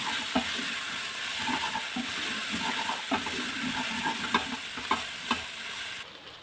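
Food frying in a pan with cumin stirred in, a steady sizzle broken by repeated scrapes and clinks of the spoon, close and without talk.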